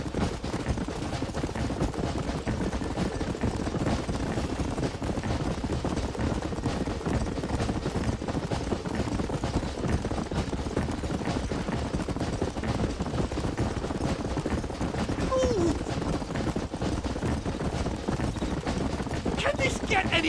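Hooves pound at a gallop for a long stretch in Red Dead Redemption on PS4, a dense, steady clatter mixed into constant game noise, with speech intermittently over it.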